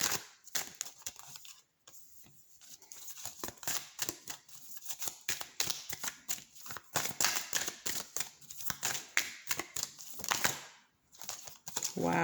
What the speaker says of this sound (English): And y'all see how I shuffle.